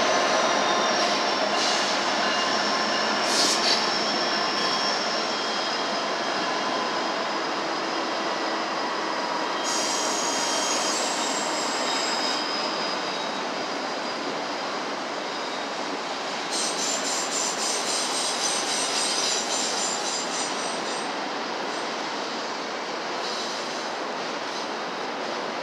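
A Union Pacific freight train rolls past in Sacramento, California, pulled by two locomotives up front with a distributed power unit further back. Steady, loud rail rumble and wheel noise go on throughout, with intermittent high metallic squeals from the wheels and no talking.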